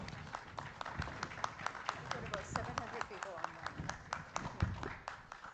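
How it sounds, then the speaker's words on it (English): Audience applause with scattered sharp claps filling a summit hall at the start of a climate governance panel discussion, steady and fairly close, with a faint voice underneath. "Can we give them a warm round of applause,"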